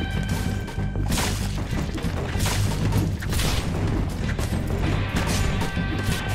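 Massed musket volleys in Guts and Blackpowder, a dense continuous crackle of overlapping shots and heavy booms forming a steady loud roar with occasional sharper cracks standing out.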